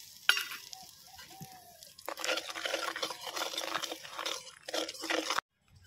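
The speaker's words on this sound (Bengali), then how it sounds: "এবার কিন্তু আমি হিং দিয়ে দিচ্ছি।" Hing dropped into hot ghee in a kadai crackles and sizzles, opening with brief pops and stirring before a dense, steady frying hiss takes over, close and fairly loud, with no talk.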